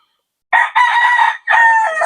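A rooster at a backyard chicken farm crows loud and close after a short silence, one long harsh call broken into segments.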